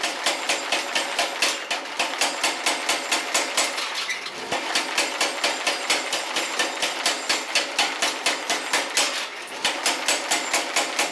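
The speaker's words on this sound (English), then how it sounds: "I'm going to cheat and use the power hammer" Mechanical power hammer drawing out the reins of forged blacksmith tongs, a fast steady train of loud metallic blows on hot steel with one short pause partway through.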